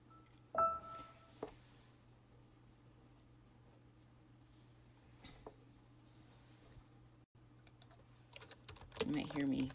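Soft, sparse keystrokes on a computer keyboard tap away faintly under a steady low electrical hum, with a few sharper clicks near the start and a brief louder burst at the end.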